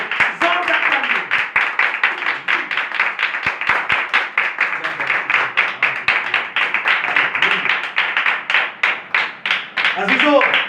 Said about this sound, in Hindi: जिंदा खुदा की दुआ के लिए एक बार जोरदार तालियां